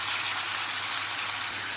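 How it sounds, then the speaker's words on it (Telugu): Two spoonfuls of oil go into a hot kadai with a steady, bright rushing hiss that stays close and even throughout, with no voices. "కడాయి వేడైంది, 2 చెంచాలు నూనె పోసుకోవాలి."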